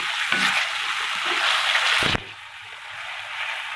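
Chicken pieces go into a yogurt mixture in a hot karahi for chicken karahi, giving a steady, close broadband sizzle that drops abruptly to a quieter hiss partway through.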